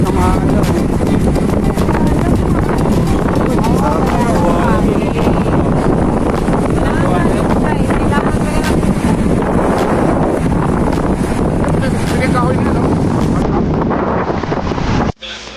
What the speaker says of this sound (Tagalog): sobrang lakas ng hangin at ang lakas ng alon